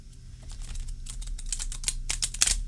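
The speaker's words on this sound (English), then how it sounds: "Let's see if we can shuffle this way." Oracle card deck being shuffled by hand, giving a run of close, crisp papery riffles and taps that grow denser and brighter toward the end.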